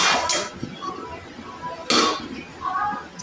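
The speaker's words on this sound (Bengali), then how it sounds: "তো এইভাবে নেড়ে চেড়ে নিয়ে আমি এবার এটাকে একটু ঢাকা দিয়ে দেব" A lid is set onto a cooking pan of drying curry. There are two sharp metallic clinks, one near the start and one about two seconds in, close and clear, with soft talk and kitchen clatter in between.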